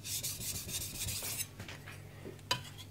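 A knife blade stroked across an 800 grit Chosera whetstone, a close gritty rasp in a few quick passes that fades after the first second and a half, ending with a faint scrape.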